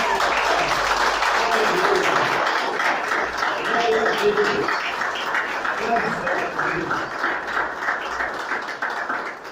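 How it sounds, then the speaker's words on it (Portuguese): A church congregation applauding, a broad wash of many hands clapping that stays full and even before slowly thinning out, heard from within the room. "Os mais que vencedores, podem aplaudir."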